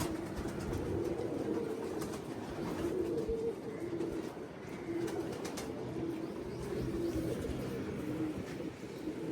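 Pet pigeons coo steadily at close range, soft repeated low calls running throughout over a constant background hum, with occasional faint clicks and rustles.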